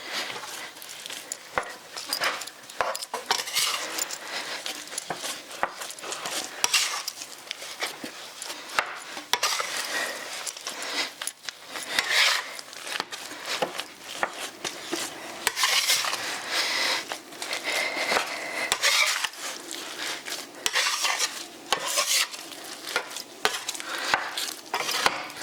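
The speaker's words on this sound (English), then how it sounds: "Just kind of cut the oil into it." A hand tool works oil into a sourdough mix in a bowl with continuous scraping, clicking stirring strokes, steady and close, with no talk.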